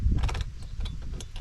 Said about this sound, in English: Using the same 4mm Allen key